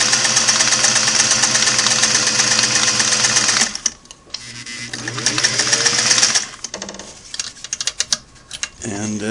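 Restored Singer Model 503A sewing machine running steadily at speed with a dense mechanical whir for several seconds, then slowing, stopping and restarting in shorter bursts with clicks and clatter.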